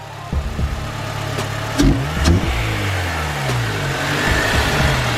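A 2004–2008 Acura TSX engine, fitted with a new power steering pump, idles steadily and then takes two short revs, running smooth and loud close by with no whine audible.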